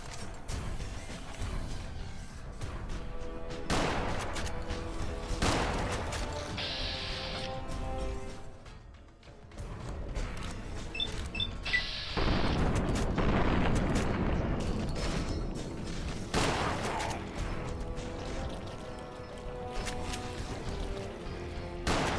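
Shotgun blasts ring out in Fallout New Vegas combat, several booming shots spaced a few seconds apart amid crashing game noise, fairly loud and close.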